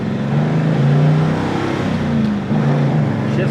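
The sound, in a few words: 1950 Mercury car driving off and accelerating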